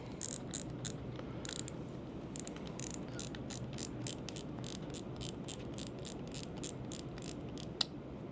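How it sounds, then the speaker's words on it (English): The cast control cap on a baitcast fishing reel is being unscrewed, producing a run of small, crisp ratchet clicks in an uneven rhythm, close up and fairly quiet, with no voices. "So if we undo your cast control cap,"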